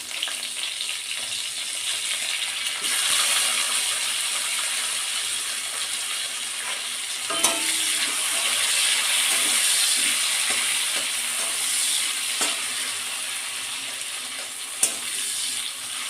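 Sliced onions sizzle in hot oil in a pan for a Bengali dish of hilsa fish head and Malabar spinach, a constant close hiss broken by occasional spatula scrapes and clinks.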